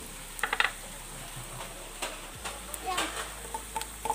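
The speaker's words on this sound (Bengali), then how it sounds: "পেঁয়াজটাকে দিয়ে একটুকু ভালো করে নেড়ে নিতে হবে এবং এর সাথে আমি দিয়ে দেবো আলু।" Onions and potatoes fry and get stirred in a pan, a quiet broadband sizzle with scattered scraping and tapping strokes from the spatula, sometimes in close pairs, with no talking.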